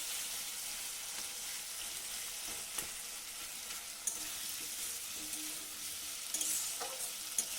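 Softened tomatoes are stirred in a hot pan under a constant close frying sizzle, with occasional faint spoon scrapes and taps against the pan.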